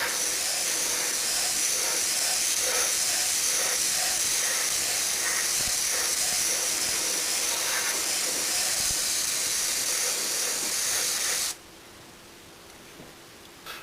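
A Promodeller spray gun sprays white acrylic paint in a steady, loud airy hiss that runs continuously for over eleven seconds, then cuts off abruptly, leaving quiet room tone.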